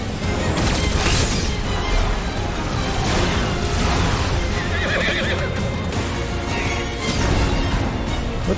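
A horse whinnies loudly several times over a dense, busy Final Fantasy XVI game soundscape, with hoofbeat-like clopping mixed into the steady background clamor.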